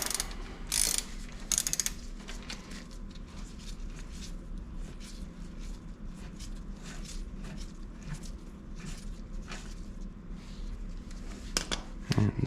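A ratchet wrench backs a bolt out of a 2001 Mazda Miata six-speed transmission during a rebuild, its quiet, rapid clicking running steadily close by, with a few louder metallic clinks and no talk.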